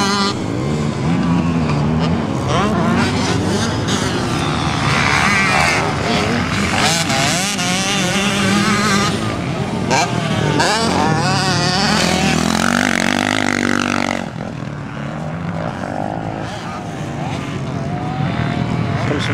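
Big motorcycles racing at the Speedworld track, loud continuous engine roar with rising and falling pitch as bikes pass, several machines overlapping throughout, easing slightly near the end.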